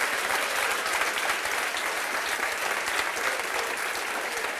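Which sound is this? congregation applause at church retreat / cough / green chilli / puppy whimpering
congregation applause at church retreat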